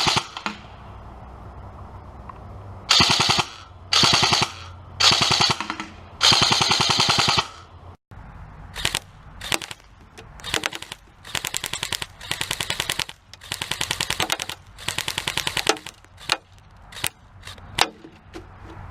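A G&G CM16 SRXL airsoft rifle fires full auto in a series of sharp rapid bursts of varying length, loud and close, separated by short pauses.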